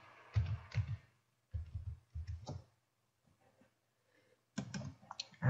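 Someone types on a computer keyboard in short bursts of quick clicking keystrokes separated by quiet gaps, close and fairly soft, with no talking.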